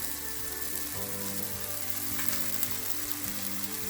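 Sliced tomatoes sauté in a pan for a fish egg dish, giving off a dense, steady sizzle and bubbling hiss close by with faint stirring and no voices.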